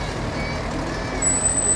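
Fire truck engine rumbling steadily during a Fourth of July parade, a constant close drone with a thin high whine rising near the end and no talking.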